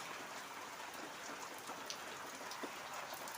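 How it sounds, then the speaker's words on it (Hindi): Heavy monsoon rain pours steadily outdoors in a village, a dense, even hiss of drops on surfaces with scattered louder patters, no talk. "भयंकर वर्षा मारला भाई ना"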